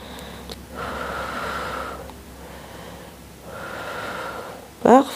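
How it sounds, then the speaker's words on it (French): Steady in-and-out breaths during a glute exercise session, two long slow exhalations separated by pauses, fairly close and soft, ending in a short sharp snort-like sound. "Allez, inspire et expire."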